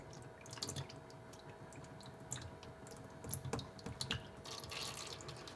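Old transmission fluid from a Ford E4OD/4R100 transmission drips and trickles into a catch container, with irregular faint splashes and ticking drops at close range, quiet throughout.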